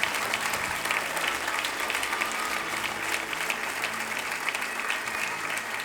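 A church congregation applauds during a 2022 Christmas show service. The clapping is continuous and even throughout, a moderately distant wash of many hands.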